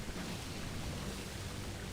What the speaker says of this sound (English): Secret waterfall.